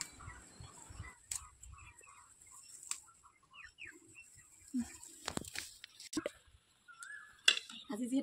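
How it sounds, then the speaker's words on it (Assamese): Assorted birds calling behind a house: scattered chirps, short whistles and twittering calls at varying distances, some near and fairly loud, others faint, with brief gaps and light rustling between them. "আমাৰ পিছফালে যে ইমান ধুনীয়া ধুনীয়াকৈ বিভিন্ন চৰাই মাত মাতি থাকে"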